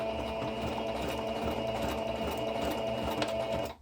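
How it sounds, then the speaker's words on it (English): Sewing machine stitching the second side of a V seam on denim jeans being turned into a skirt, a steady close mechanical whir running continuously without a break. "now we're going to sew in the second side of the V in the exact same way"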